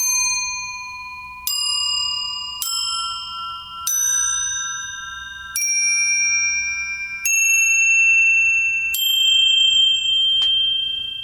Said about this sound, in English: Just commonly known as Chinese bells on eBay.